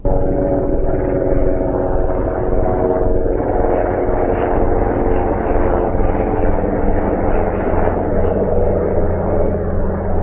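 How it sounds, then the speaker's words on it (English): Steady, loud engine rumble with thudding rotor tones from two military helicopters flying past, sustained throughout without a break. "there are two military helicopters flying past"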